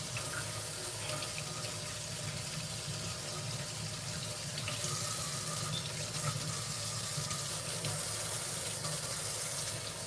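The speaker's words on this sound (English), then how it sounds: "I'm gonna rinse it out," A kitchen faucet runs steadily as cabbage is rinsed beneath it, a continuous close stream of water splashing into the sink with no speech.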